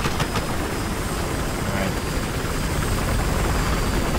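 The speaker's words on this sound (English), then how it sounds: "Where'd that chopper go?" A helicopter flies overhead in the video game Battlefield Hardline, a loud continuous rotor and engine roar filling the whole stretch, with players talking briefly over it.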